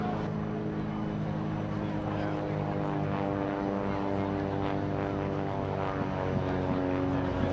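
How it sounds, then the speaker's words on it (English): A propeller aerobatic airplane drones continuously at an air show while it performs high-rate aileron rolls, its engine holding a steady, moderately distant hum with slight wavering pitch. "As Jim comes back over the top and gives you a series of high rate aileron rolls that Jim calls the Parker House roll."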